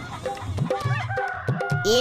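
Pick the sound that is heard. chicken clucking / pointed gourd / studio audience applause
chicken clucking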